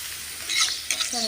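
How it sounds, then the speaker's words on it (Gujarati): Oil sizzles and crackles hard in a kadai as a spice tempering is stirred in, a steady close frying hiss with a brief clatter of movement. "આ બધો વઘાર ઠાયરો છે કઢાઈમાં"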